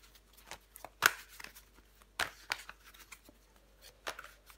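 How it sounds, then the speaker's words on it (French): Tarot cards are handled and laid out on a surface, a few sharp close flicks and slaps among soft rustling and sliding, quiet overall with no speech. "On va recouvrir des cartes."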